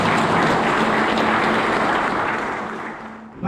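A large crowd at a Catholic church gathering claps in a dense, sustained wash of applause that holds steady, then gradually thins and fades toward the end.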